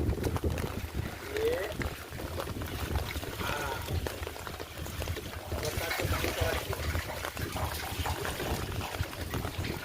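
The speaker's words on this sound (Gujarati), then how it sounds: "જો બંબો પડતો બતાવ્યો" Water gushes steadily from a pump outlet, a continuous broad splashing rush that stays loud and unbroken throughout, with a voice talking over it.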